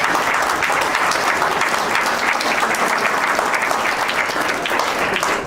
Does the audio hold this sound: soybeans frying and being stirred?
no